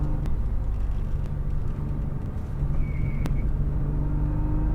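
Nissan GT-R R35 engine droning steadily at close range on a race track, a loud continuous rumble that holds through an upshift while the car stays on power, with brief faint clicks on top.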